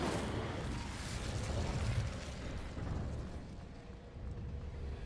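A fiery blast from the Incendio spell in Hogwarts Legacy: a broad, roaring whoosh that swells and fades over several seconds, moderately loud, with no talking.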